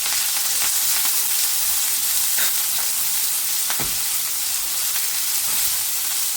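Curry leaves and chopped onion fry in hot oil in a pan for a Karnataka-style vegetable palya, a close, continuous bright sizzle and crackle with occasional stirring clinks.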